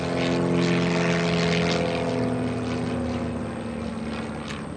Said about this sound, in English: That is a classic clipped-wing Taylorcraft.